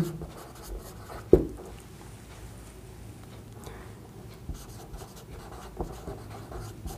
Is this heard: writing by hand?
yes